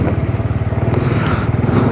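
A motorcycle engine idles loudly nearby, its low pulsing putter steady and rhythmic throughout, with no talking.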